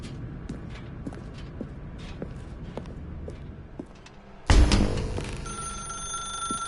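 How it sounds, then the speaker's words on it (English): A telephone rings in The Stanley Parable, loud and close, starting abruptly partway through after a quieter stretch of footsteps-like ticking ambience, its bright metallic bell sustained to the end. "Now pick up the phone"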